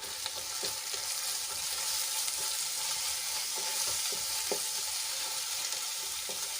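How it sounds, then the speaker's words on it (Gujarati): Spices with red chilli powder sauté in hot oil for a gravy, producing a dense, steady sizzle with light repeated scraping of a stirring spoon, close and unbroken by speech. "બધા મસાલાને આપણે એક મિનિટ માટે સાંતળી લઈશું"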